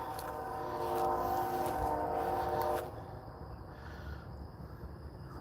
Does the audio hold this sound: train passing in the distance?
yes